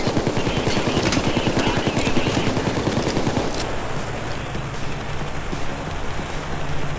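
Rapid gunfire in the video game PayDay 2, a dense rattling burst of automatic shots that runs loud for several seconds, then gives way to a lower rumbling din with scattered distant pops.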